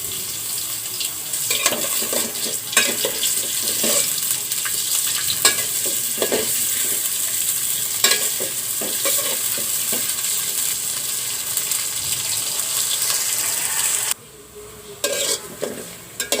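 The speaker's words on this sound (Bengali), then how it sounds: "তারপরে আলুগুলা ভাজানো হয়ে গেল।" Potatoes sizzle steadily in hot mustard oil while being stirred, with repeated scraping strokes of the spoon against the pan through most of the clip, close and fairly loud, easing briefly near the end.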